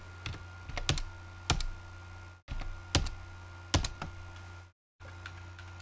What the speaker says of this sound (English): a very aggressive typing apparently coming through the audio